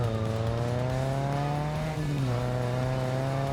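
Car engine accelerating in the survival game Scum, a steady loud droning tone with rising harmonics held throughout, the pitch dipping slightly and climbing again near the end.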